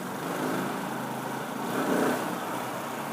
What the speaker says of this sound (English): it is quite a loud bike